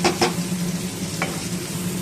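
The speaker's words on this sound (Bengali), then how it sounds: "বেগুনের সঙ্গে সঙ্গে এগুলো ভাজা হয়ে যাক।" Lentil bori frying in oil alongside brinjal, a steady close sizzle with a few sharp stirring scrapes near the start and once more midway, no voices.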